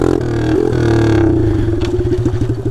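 A Chinese pit bike engine runs with no exhaust, loud and close, a harsh rasping rev that drops into a rapid uneven popping idle.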